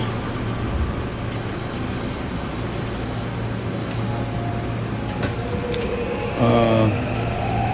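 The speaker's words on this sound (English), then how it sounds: "And here we are on the subway." Seoul subway train riding, a steady low rumble and hum of the moving carriage throughout, with a brief rattling surge near the end, under faint background voices.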